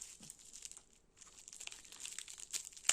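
Soft crinkling and snipping of a plastic cross-stitch supply packet being cut with scissors, with quiet rustles and a few sharper crackles near the end.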